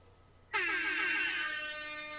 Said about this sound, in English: Whose air horn was that?